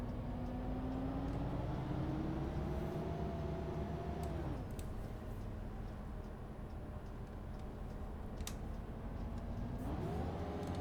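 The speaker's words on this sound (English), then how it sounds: "we've got a Voith gearbox on board today. The engine sounds are pretty good." A Solaris Urbino 18 articulated bus with a Voith gearbox in the OMSI 2 simulator pulls away, its engine droning and rising in pitch, dropping at a gear change, then climbing again, loud and steady throughout.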